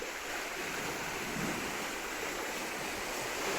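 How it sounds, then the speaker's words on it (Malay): A steady rushing roar of surf at Parit Kassim mangroves, Muar, fills the scene, broad and constant with a slight rise and fall, mixed with a little wind. "daripada sini kita boleh dengar deruan ombak."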